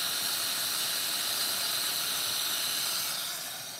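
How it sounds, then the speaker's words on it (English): Steam hisses steadily from a cooking pot in a home kitchen, a continuous close bright hiss with no voices, easing slightly at the end. "The steam is really going on that thing."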